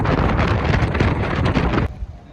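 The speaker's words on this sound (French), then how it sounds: "Il y a un peu plus de vent là quand même." Wind gusts buffet the microphone at the harbour in Oslo, a loud rough rumble that drops away abruptly near the end, with no voices.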